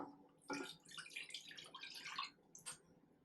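One cup of milk poured from a mason jar into a pot on the stove, a soft liquid splash and gurgle lasting a few seconds, heard close up with nobody talking.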